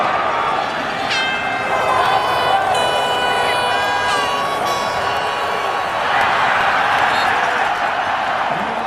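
A stadium crowd at a Grey Cup football game roars and cheers continuously and loudly, with horn-like tones cutting through the din.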